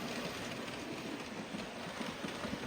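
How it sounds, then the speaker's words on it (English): A model mineral train runs along track on a layout, giving a steady soft rumble with faint rhythmic clicking that continues without pause. "I'll stop the mineral train on track 2, so we can hear for ourselves."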